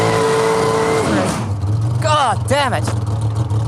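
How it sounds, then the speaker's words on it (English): A drag racing dragster sits on the strip doing a tyre burnout, its engine a loud, steady low roar from start to finish, with someone shouting over it partway through. "this burnout will be the first time I get to sense the sheer power of this dragster"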